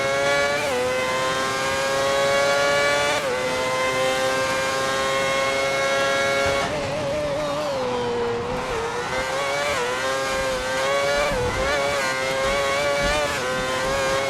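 Formula One race car engines from the racing game F1 2010, a loud, continuous high-pitched whine with rising and falling revs and gear changes, sustained throughout without any speech.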